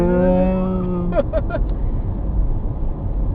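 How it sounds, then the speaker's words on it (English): A cow moos in a long, loud, drawn-out low call near a roadside, breaking into a few short grunts at the end, while a vehicle engine rumbles steadily underneath. "the crazy moo cow"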